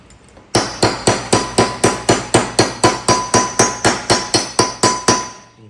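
A punch struck by a hammer drives an inner bearing into a Shovelhead motor, giving about sixteen sharp metallic blows at a steady, even rhythm, close and loud, each with a short ringing tail.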